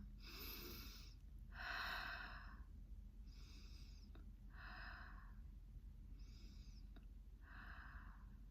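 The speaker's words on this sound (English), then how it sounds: "I'll take a few deep breaths and finish the video" A person takes about six slow, deep breaths close to the microphone, each a soft airy rush of a second or so, separated by short quiet gaps.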